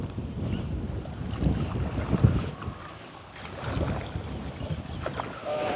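Gusty wind buffets the microphone on a boat over a low rumble of water and motion, swelling and easing in uneven waves throughout.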